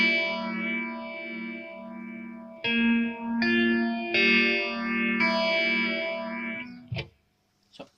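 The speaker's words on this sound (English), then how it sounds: "vintage phaser from behringer" A Behringer vintage phaser pedal sweeps an electric guitar through swirling, whooshing tone, with several strummed chords ringing under the moving effect before a sharp stop and a brief final hit.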